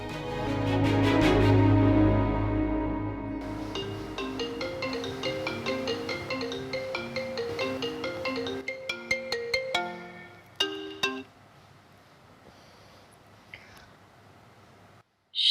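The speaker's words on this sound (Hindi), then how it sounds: "हाँ, हानिया मॉम को कॉल करनी है।" Phone ringtone from an outgoing call: a bright melodic tune plays loudly, then breaks into shorter repeating tones and fades to near silence.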